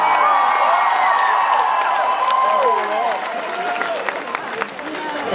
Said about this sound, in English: make some applause for the pink mohawk